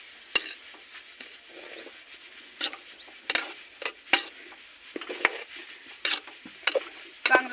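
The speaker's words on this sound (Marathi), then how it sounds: "आता याला हलवायचं आहे बघा." Food frying in a pan while being stirred, with scraping and clinking strokes at an irregular rhythm over a soft sizzle, close and moderately quiet with no talking.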